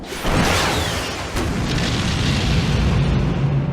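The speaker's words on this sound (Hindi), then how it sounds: "वो सिर्फ ब्रिज उड़ा रहे हैं।" A bridge being blown up in a movie scene: a loud, deep explosion erupts almost at once and rolls on as a sustained rumbling roar with a second burst about a second later, filling the whole stretch with no voices.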